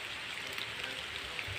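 Heavy rain pours steadily in a broad, even hiss, close and continuous with no gaps or voices during a Vishwakarma Puja outing.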